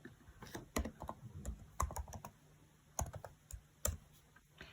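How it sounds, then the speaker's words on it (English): Irregular bursts of typing on a computer keyboard, close and clicky, with uneven pauses between clusters of keystrokes as a Bible reading and search words are entered; no talking. "we type in that Bible reading and the word image"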